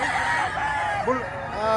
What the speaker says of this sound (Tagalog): Maraming dala itong manok dito.